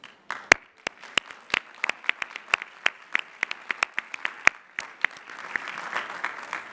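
Audience applause for Educational Specialist and Master's degree graduates at the 149th Lehigh University Commencement: a scattered crowd of clapping hands with sharp individual claps standing out, steady for several seconds and swelling slightly toward the end.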